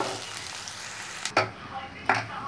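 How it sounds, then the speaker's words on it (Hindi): Chopped onions frying in hot oil in a pan, a close steady sizzle broken by two sharp bursts as a spoon stirs them, with no voices over it. "हमारा तेल गरम हो चुका है, अब इसमें ऐड करेंगे कटा हुआ प्याज और इसे अच्छे से मिक्स करके हमें 5 मिनट तक पकाना है"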